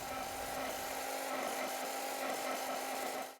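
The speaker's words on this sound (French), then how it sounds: "on fouette à l'aide du batteur électrique jusqu'à ce qu'elle monte bien ferme" An electric hand mixer whips cream with powdered sugar in a bowl, giving a steady, close whirring motor hum with a buzzing edge that holds evenly for several seconds before cutting off abruptly.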